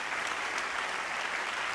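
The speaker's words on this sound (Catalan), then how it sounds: "un aplaudiment per ells." Audience applause at a Catalan wine awards gala, a brief burst of steady, moderately distant clapping from a crowd.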